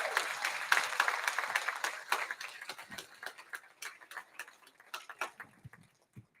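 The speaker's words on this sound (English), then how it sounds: "give them a big round of applause" Scattered applause from a small crowd at a golf hall of fame event, fairly lively at first, then thinning into sparse individual claps as it dies away.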